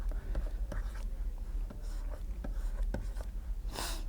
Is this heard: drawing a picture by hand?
yes